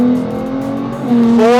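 A car engine revs hard and close while shifting down through the gears, a loud, steady tone that dips, then rises sharply in pitch after a gear change.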